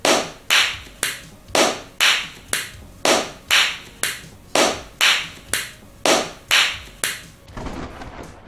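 Slow, evenly spaced single claps, about fourteen sharp hits roughly every half second, loud and close with nothing else in between, trailing off at the end.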